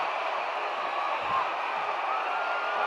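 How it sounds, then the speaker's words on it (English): Crowd at a 1969 professional wrestling match between Bull Curry and Johnny Valentine roaring and applauding continuously, a dense steady wash of cheers and clapping throughout. "listen to this tremendous roar of applause given to Bull Curry"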